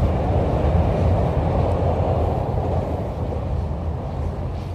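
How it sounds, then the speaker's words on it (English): A train passing through a city, heard as a loud, steady low-frequency rumble that slowly fades slightly, with wind noise and no voices. "There's a train there."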